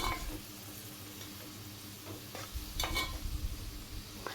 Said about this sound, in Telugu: పాలకూర కొంచెం బాగా వేగేంత వరకు మూత పెట్టుకుని ఇందులోంచి నీరు బయటికి రిలీజ్ అవుతుంది